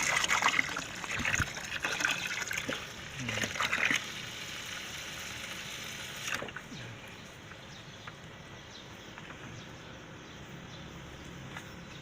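Water trickling and pouring into a foam box used for raising freshwater snails, a steady splashing flow outdoors that is louder in the first few seconds and then settles into a quieter, continuous dribble.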